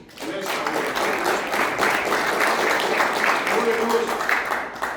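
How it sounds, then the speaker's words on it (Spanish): A church congregation claps steadily and fairly loudly in a dense, sustained wash of applause, with voices and faint calls mixed in throughout. "Dale un aplauso al Señor."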